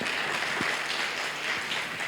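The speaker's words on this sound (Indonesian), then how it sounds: "Oke, tepuk tangan untuk Tuhan Yesus." A congregation at a Thursday church service applauds softly in the distance, a faint, even wash of clapping with no voices on top.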